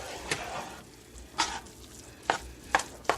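A spoon stirs Thanksgiving dressing loosened with chicken broth in a pan. It makes quiet, soft scraping sounds with a handful of sharper strokes spaced irregularly over a few seconds.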